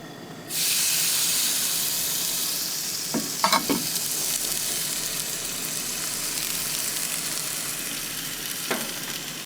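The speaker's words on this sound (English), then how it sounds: "we're just gonna lay this fine piece of meat right on there" Meat sizzling steadily in a cast iron pan at a truck camping setup, a loud broadband frying hiss starting abruptly and holding throughout, with a few brief clanks or stirs partway in.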